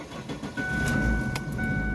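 A 2002 Ford Focus wagon engine cranks and catches, settling into a steady mid-pitched idle with a warning chime ringing over it, loud and close.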